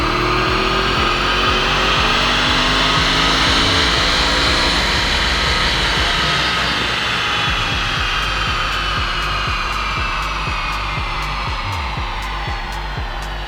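An Audi RS6 engine with an aftermarket air intake roars through a 5th gear dyno pull, a loud, sustained rising drone that climbs steadily in pitch and intensity at close range without any talk.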